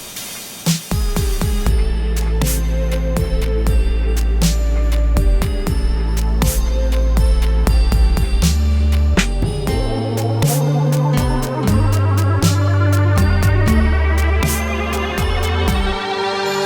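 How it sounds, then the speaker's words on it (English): Full-band intro of a cover, a loud, dense mix of distorted guitars, bass and drums playing steadily throughout, with no voices. "you get the full intro, which sounds a little bit like this."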